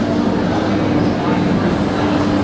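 A Lakshmikantapur local train from Sealdah's south section rumbles steadily from inside the carriage, a constant mid-level drone with a faint tonal hum and no breaks.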